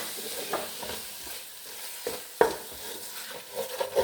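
A spoon stirs masala with tomatoes frying in a pan: scraping strokes and soft scrapes against the pan over a continuous light sizzle, with one sharper metallic knock midway, close and fairly quiet.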